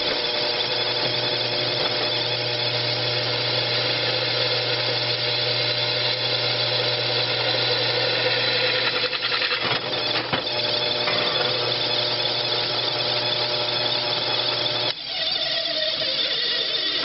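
A power drill bores holes in metal for a crankshaft concentricity test stand, running as a steady whirring hum for most of the stretch with brief bursts of rougher grinding, then a change in tone near the end.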